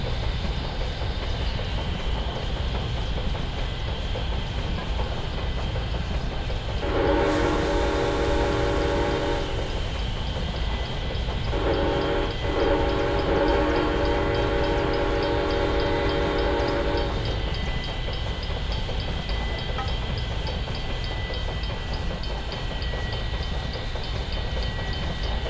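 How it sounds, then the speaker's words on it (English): An express train in a New Haven Railroad simulator game rushes past with steady rumble and clickety-clack, sounding its horn in two long blasts midway, alone without talk. "We'll let that express train pass us by."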